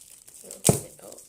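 Plastic wrapping torn open on an 8x8 paper pad, a single sharp crinkling rip near the mic with softer rustles before and after.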